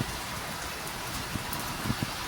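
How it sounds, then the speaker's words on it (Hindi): Heavy rain pours down in a dense, constant hiss, with a few sharper drops or splashes standing out near the end, close and steady with no voices. "बारिश देखो इतनी तेज़ हो गई है अब"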